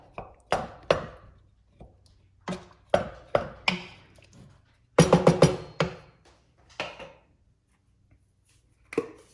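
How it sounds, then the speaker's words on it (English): Tomatoes and tomato paste for marinara being stirred and crushed with a utensil in a pot, giving a series of close, irregular knocks and wet squelches with brief pauses, one busier cluster midway, no talking. "Go ahead and stir that up a little, and you can kind of crush those tomatoes a little more."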